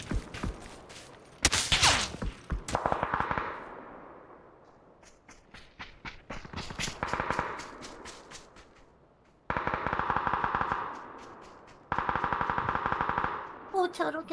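Rapid bursts of automatic gunfire in the video game PUBG (Battlegrounds), several loud rattling volleys separated by short pauses, with sharper single shots mixed in.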